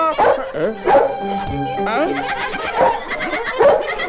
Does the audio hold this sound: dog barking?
yes